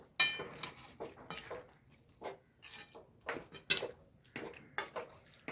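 A spoon stirs kootu curry with chana dal in a pot, giving a series of irregular metallic clinks and scrapes against the pot, sharp and close, with quiet gaps between strokes.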